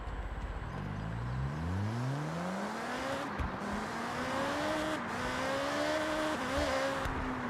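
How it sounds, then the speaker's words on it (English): A car engine in Forza Horizon 6 revs up and climbs through gears, with a buzzy, rising whine like a V4 motorcycle. It holds a steady drone with brief drops between shifts. "Sounds like a V4 motorcycle engine."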